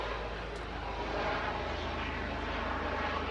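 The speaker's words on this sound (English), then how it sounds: "that happens to be a Coast Guard helicopter" A Coast Guard helicopter passes overhead near the ocean in San Diego, a steady, fairly distant droning rumble with a faint low rhythmic beat and no voices.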